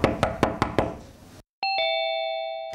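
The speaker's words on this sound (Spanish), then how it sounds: "Los timbres, el golpeteo de las puertas en casas y departamentos también serán parte de este fin de semana festivo." Several sharp knocks on a door in a house or apartment, a brief pause, then a two-tone electronic doorbell chime that rings out and sustains, both close and clear with no talking.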